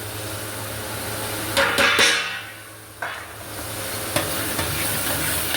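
A spoon stirring a ginger-garlic spice mixture with pepper, salt, turmeric, garam masala, coriander and kasuri methi in a pan for Hyderabadi butter chicken: soft scraping and frying hiss with a few sharp clinks of utensil against metal.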